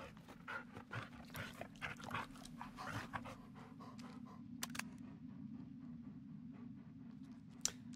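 A dog in the horror video game Blair Witch pants steadily and close for several seconds, with a soft whimper and small clicks over a low constant game drone and no talk.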